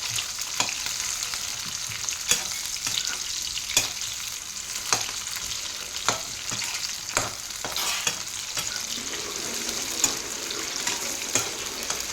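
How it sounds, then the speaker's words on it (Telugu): Onions fry in a pan, a steady dense sizzle with regular light scrapes and taps from a utensil stirring them, no voices over it. "నెక్స్ట్ ఆనియన్స్, ఒక 1 minute వేగితే చాలు."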